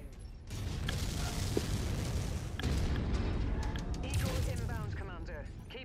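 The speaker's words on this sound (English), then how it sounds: "I love the fucking recoil from firing my AC-10" An AC-10 autocannon on a heavy mech in MechWarrior 5 booms in a few slow, powerful shots over steady mechanical rumble and creaking, with a voice talking throughout.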